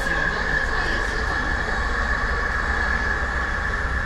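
An electric LRT train runs along its line in Kuala Lumpur, Malaysia, with a steady loud rumble and rolling wheel noise and a sustained whine, heard up close and continuous throughout.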